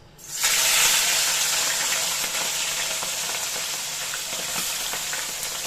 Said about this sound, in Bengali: এবার আমি চিংড়ি মাছগুলো কড়াই দিয়ে দিই